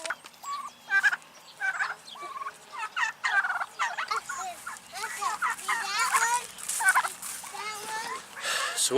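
Turkeys gobble in bursts of warbling calls, some close and loud, with a voice talking briefly among them.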